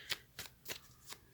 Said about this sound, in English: Just going to shuffle this deck a little bit.